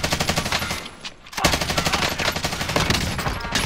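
Rapid automatic gunfire in a Rebirth Island quads video game match, a dense loud burst of shots that breaks off briefly and then resumes as sustained firing.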